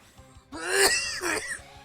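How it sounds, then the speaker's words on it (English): A single harsh, raspy cough burst, followed by a second shorter one, close to the microphone with no talking. "Sorry about my coughing."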